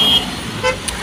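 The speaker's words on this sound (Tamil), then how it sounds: "அதுக்குள்ள வண்டி வந்துருச்சு" A vehicle comes along a road on a pilgrimage walk to Palani, giving a short horn toot with engine noise, close and fairly loud, over about a second.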